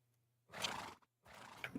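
A Minecraft horse gives two short, close neighs separated by a brief pause, clear against near silence.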